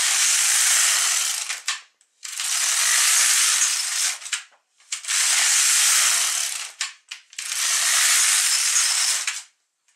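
A knitting machine carriage, an LK150 or K360, slides across a full needle bed in four long rasping sweeps of about two seconds each, separated by brief pauses and clicks, close and loud without talk.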